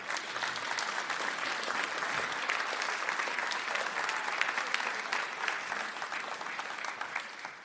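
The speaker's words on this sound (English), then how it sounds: "Can we give these guys a round of applause?" An audience at a community centre's 20th anniversary celebration claps in sustained, dense applause that stays full and even for several seconds.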